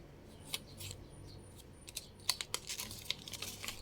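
Paper or plastic packaging being torn open by hand, a run of crinkly rips and crackles, close and fairly quiet, with no talking.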